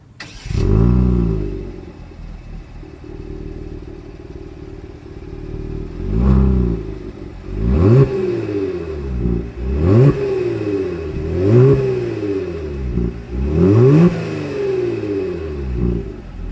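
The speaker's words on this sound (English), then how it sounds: "As always, here is that exhaust clip." A 2020 Genesis G70 sedan's engine idles, then is revved hard several times in quick succession, each rev climbing and falling back through the exhaust, loud and close.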